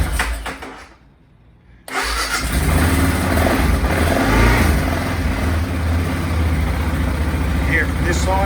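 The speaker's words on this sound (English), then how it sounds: "So I'm just going to start the bike and give you a listen to what it sounds like now." BMW F650GS motorcycle with stock exhaust starting up after a brief starter crank, then running at a loud, steady idle close to the microphone.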